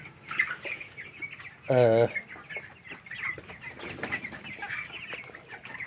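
17-day-old broiler chickens clucking and calling, with one loud, drawn-out cry near the start over a busy background of scattered clucks and rustling.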